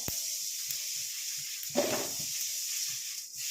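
Curry leaves frying in hot oil in a pan give a steady, faint sizzling hiss with a brief louder crackle midway, heard alone without talk.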